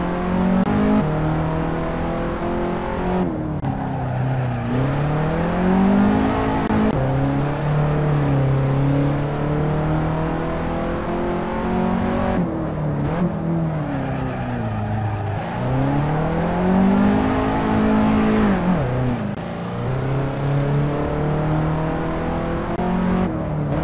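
An Alfa Romeo Giulietta race car engine in a video game revs continuously and loudly, its pitch climbing and dropping in repeated sweeps through gear changes, with no talk over it.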